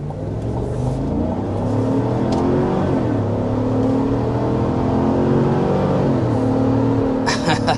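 A 2025 full-size SUV, Chevy Tahoe or Toyota Sequoia, with its engine pulling at full throttle, a steady loud drone from inside the cabin that rises slowly in pitch.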